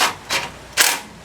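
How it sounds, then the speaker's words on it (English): A small 1/4 inch cordless impact screwdriver drives number 2 Phillips screws on an older Craftsman snowblower, giving three sharp, close bursts of rattling impacts separated by brief pauses. "This is just a little 1/4 inch, basically a cordless screwdriver. It does impact, but it's very low torque."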